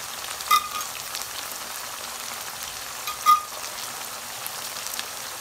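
Chicken frying in teriyaki marinade in a pan gives a steady soft sizzle and hiss throughout, broken by a couple of brief sharp pops.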